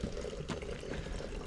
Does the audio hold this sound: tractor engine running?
no